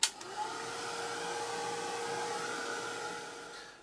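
A handheld heat dryer blows steadily to dry paint on a craft-paper art journal page, a continuous close whoosh with a faint whine, alone and without talk.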